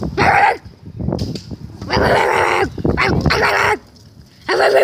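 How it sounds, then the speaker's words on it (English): A dog barks and yips several times at close range, loud irregular bursts separated by short gaps. "Hey, there's a real dog over there."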